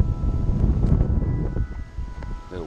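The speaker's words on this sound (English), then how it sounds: "A little windy a little bit," Gusty wind buffets the microphone outdoors beside choppy water, a rough continuous low rumble that fluctuates in strength and eases slightly toward the end.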